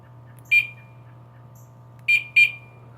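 A Craftsman truck alarm gives three short, sharp electronic chirps while being disarmed, one alone and then two in quick succession, over a faint steady low hum.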